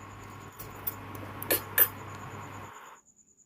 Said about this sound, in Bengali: এবার ঢাকা দিয়ে আমি রেখে দিচ্ছি।